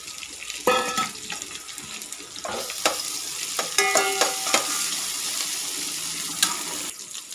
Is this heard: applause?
no